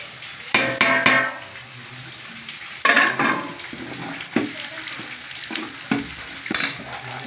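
Potatoes fry in a pan with masala powder and are stirred in bursts, scraping and clattering over a steady soft sizzle, close up and with no voices.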